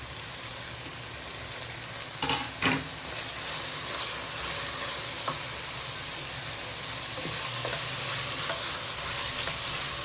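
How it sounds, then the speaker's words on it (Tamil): Mushrooms sautéing in a pan with mint and coriander leaves, a steady close sizzle broken by a few spoon scrapes and clinks early on, with no voices over it. "மஷ்ரூம் ரொம்ப வதங்கக்கூடாது, மீடியமாக வதங்கினா போதும்"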